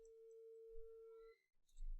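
A steady telephone tone sounds on an outgoing call, a single sustained pitch held for over a second before cutting off, followed by a brief click and noise.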